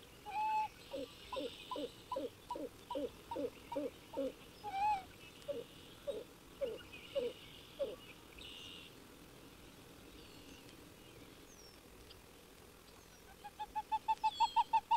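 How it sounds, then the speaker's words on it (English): A pied-billed grebe calls loudly across a pond in a long rhythmic series of hollow, throaty notes, slowing toward the end, then a quick rising run of clipped notes closes the sequence. "the startling call of the pied-billed grebe reverberates across the pond"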